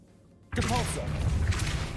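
In a PC video game, the Depulso spell goes off after a quiet pause as a sudden forceful burst, followed by a sustained rushing, crackling wash of effect sound.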